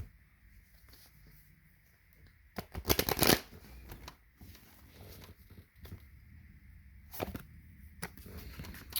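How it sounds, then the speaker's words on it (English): Tarot cards are shuffled close by with quiet riffling and a loud fluttering burst near the middle, then a few softer flicks. "Okay, so let me pull these cards up."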